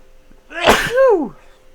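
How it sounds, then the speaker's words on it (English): A single loud sneeze, a sharp inhale then an explosive burst, close up in a quiet room. "Oh shit, I gotta sneeze."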